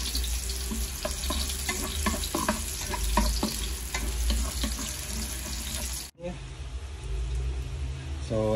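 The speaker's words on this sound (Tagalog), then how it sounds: "medyo mainit na ang ating mantika. Lagay na natin tong sibuyas natin." Onions dropped into hot cooking oil in a pan for a pork omelette, a close, bright, continuous sizzle and spatter with brief scraping, cut off abruptly before a quieter stretch of room sound.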